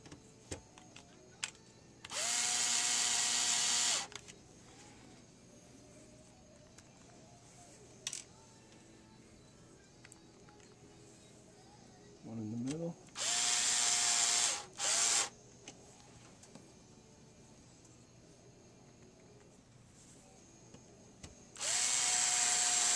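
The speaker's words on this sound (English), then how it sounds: "Put your three screws back in." Three screws are driven back into a Samsung CLP-315W printer part with a power screwdriver, in several close whirring bursts, the middle one broken into short stop-start pulses, with clicks and handling noise between them and no talking.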